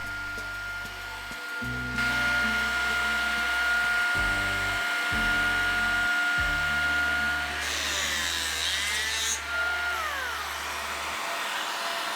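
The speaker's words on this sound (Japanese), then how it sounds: "それを入れる溝をつく機械です。" A biscuit joiner cuts grooves in wood for a giant wooden Gundam build, its loud motor whining up in steady bursts, spinning down between cuts, with a harsher rasp as the blade bites into the timber.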